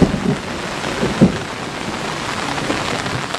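Heavy rain pours steadily outdoors as a dense, continuous wash of drops during an 8-inch rainfall, loud and close throughout, with a couple of soft low thumps early on and no voices.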